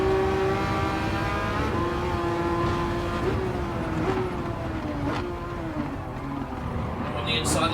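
Race car engine in Gran Turismo 7 holding a steady high-pitched drone as it pulls out of a slipstream, the pitch dipping slightly and then rising, loud and continuous throughout.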